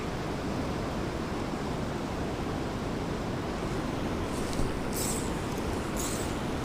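Heavy river current rushes at the edge of a waterfall in a dense, continuous roar of broadband noise, loud and steady throughout, with faint higher splashes near the end and no voices.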